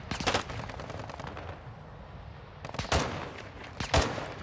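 Gunfire in the game Call of Duty DMZ, including shotgun blasts: a dense burst of shots early, a lull, then several loud, sharp single booms near the end, heard up close.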